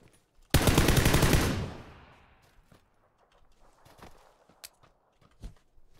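Gunfire in the battle royale game PUBG: a loud, dense automatic burst erupts near the start and rings out over about a second, then trails off into softer scattered clicks and single distant shots.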